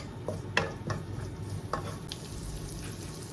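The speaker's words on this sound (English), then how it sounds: "I have butter in it, and chopped garlic, chili, add on it. Turn on the heat." Butter, chopped garlic and chili fry in a pan over low heat for a mussels sauce, with quiet crackling sizzle broken by several sharp stirring scrapes and taps up close.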